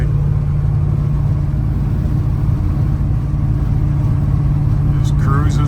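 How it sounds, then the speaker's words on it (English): A 1985 Chevrolet C10 shortbox truck with dual exhaust cruises down the road, its engine giving a steady, loud low rumble throughout, close and continuous, with a brief faint sound near the end. "really good sounding truck. Got some good sounding dual exhaust on it"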